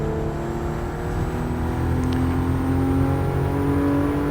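Car engine revving in the racing game Gran Turismo Sport, a steady, loud engine drone that climbs in pitch through the clip with no talk.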